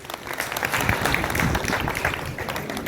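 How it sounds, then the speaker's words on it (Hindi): A seated crowd at a political gathering in India breaks into sustained, dense applause to welcome a speaker, loud and fairly close, holding steady before tapering slightly at the end. "एक बार जोरदार तालियों से आप लोग स्वागत।"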